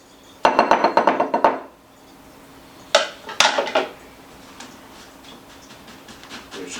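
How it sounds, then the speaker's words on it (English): Cheddar being mixed into a quiche filling in a bowl, heard as two loud bursts of rapid clinking and scraping, each lasting about a second, then quieter scattered taps. "Now I'm just going to mix all this together."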